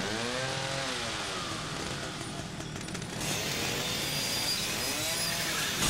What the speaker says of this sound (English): Let's chainsaw this.